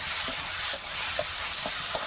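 Cumin, black pepper and red chilli powders fry in oil with potatoes in a pan, a continuous low sizzle broken by several light scrapes of a stirring spoon.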